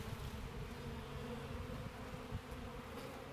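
Dense swarm of Russian honey bees buzzing as they are shaken off a queen cage during installation into a new hive, a continuous close hum with no break.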